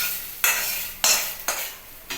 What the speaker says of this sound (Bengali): এবার মৌরি বাজাটা আমি ডালের মধ্যে ঢেলে দিলাম